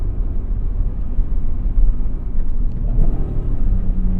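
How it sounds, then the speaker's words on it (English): A 1996 Acura NSX mid-engine drops a gear, its deep induction roar rumbling low and steady with a slight rise in revs partway through, heard close from inside the car without talk. "So like the induction noise you get when you downshift."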